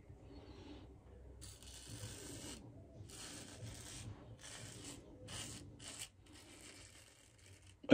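Merkur safety razor blade dragging across stubble during a wet shave, soft, close scratchy strokes that come in short rasping bursts separated by brief pauses.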